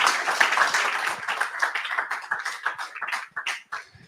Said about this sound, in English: let's give Abhishek another round of applause and thanks